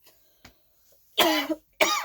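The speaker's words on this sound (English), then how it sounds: "Did that cough hurt you?" A person coughs twice in quick succession, loud and close, with a few faint small sounds before and no talking.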